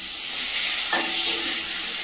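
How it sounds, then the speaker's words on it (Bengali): Whole garam masala spices, cardamom, cinnamon, cloves and bay leaves fry in hot oil with a close, steady sizzling hiss and a couple of brief louder crackles, and no talking. "এই একই তেলের মধ্যে দিয়ে দেবো গোটা গরম মশলা, এলাচ, দারচিনি, লবঙ্গ, দিয়ে দেবো তেজপাতা"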